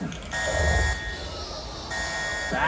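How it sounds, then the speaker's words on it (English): An electronic alarm buzzer sounds at the raptor encounter show at Universal Studios Hollywood, a steady tone that drops off briefly midway and then resumes, with background noise from the crowd. "Oh, sound the alarm."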